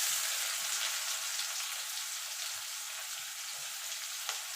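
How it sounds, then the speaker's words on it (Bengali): Onion frying in a pan until golden, a steady close hiss of sizzling oil with faint soft stirring scrapes underneath, no voices. "পেঁয়াজটা একটু সোনালি কালার করে ভেজে নেব।"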